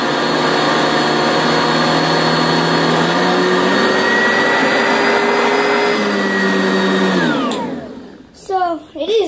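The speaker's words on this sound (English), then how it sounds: "So it is loud, but it gets even louder when I pick up the vacuum." An Oreck XL 2 upright vacuum cleaner roars loudly and steadily, its whine shifting pitch partway through before the motor winds down and cuts off near the end.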